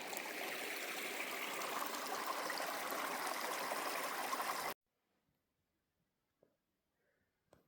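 Running stream water beside a lake, a steady broadband rush for nearly five seconds that cuts off abruptly, followed by near silence with a few faint small knocks.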